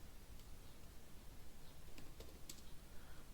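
Computer keyboard typing heard faintly, a few scattered light key clicks over a soft hiss, without talk.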